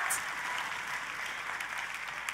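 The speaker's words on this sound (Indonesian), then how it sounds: "hari ini saya mau mendengar tepuk tangan yang paling meriah" A church congregation claps during a sermon, a faint, even wash of applause heard from a distance for a couple of seconds.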